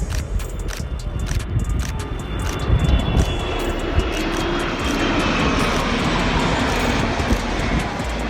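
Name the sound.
Boeing C-17 military transport plane flying over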